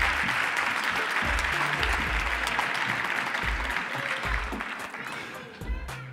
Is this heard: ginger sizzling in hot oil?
no